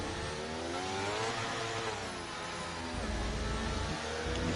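A race car engine revs hard in a sim racing game at Interlagos, over-revving through a slow left-hander with a loud, continuous whine that rises and falls in pitch.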